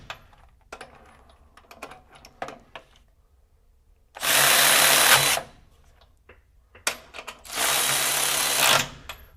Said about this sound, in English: So much faster ratchet on the new high-speed extended version of this tool